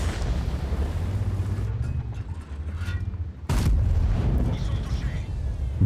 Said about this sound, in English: Very quick shot into that